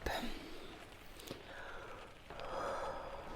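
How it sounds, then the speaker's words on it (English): A person gives a drawn-out, breathy yawn, with soft airy inhales and exhales in a quiet room. "Big yawn."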